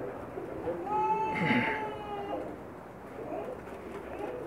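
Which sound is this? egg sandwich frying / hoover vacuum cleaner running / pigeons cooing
pigeons cooing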